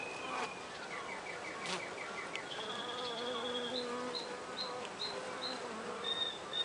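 Honeybees buzz around an open hive frame, a dense continuous drone with individual bees whining nearby, moderately quiet and steady.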